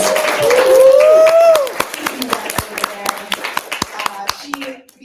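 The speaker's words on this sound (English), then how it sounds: "Everybody give a round of applause for Liz." An audience claps for Liz at a small business talk, scattered hand claps ringing out singly after a speaker's voice, fairly close and thinning toward the end.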